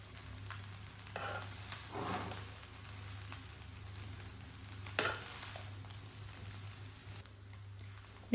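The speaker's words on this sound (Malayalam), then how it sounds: "ഞാൻ ഇവിടെ കുരുമുളക് പൊടിയാണ് ചേർത്ത് കൊടുക്കുന്നത്. എന്നിട്ട് ജസ്റ്റ് ഒന്ന് യോജിപ്പിക്കുക." Fried rice with ground black pepper is stirred in a pan under a low steady sizzle, with a few scraping strokes and one sharper clink. The sound is close but quiet, with no speech.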